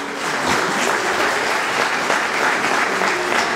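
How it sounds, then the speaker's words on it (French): A theatre audience at a comedy sketch show applauds a participant, steady dense clapping throughout, fairly close and loud, with no voices standing out. "On peut applaudir Polo s'il vous plaît."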